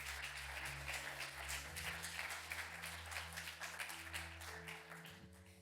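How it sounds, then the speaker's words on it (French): A church congregation claps steadily and faintly through a Sunday celebration service, with sustained held tones underneath. "Applaudissez si vous le croyez."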